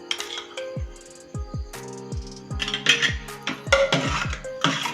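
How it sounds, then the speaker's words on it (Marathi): A spoon stirs ice into a pink watermelon sherbet, 'mohabbat ka sharbat', in a pot, giving a run of close, bright clinks and scrapes. The clatter is steady and irregular and carries on alone with no talking. "मी इथे बर्फ घातलेला आहे असं छान हे मिक्स करून वितळून घेऊया"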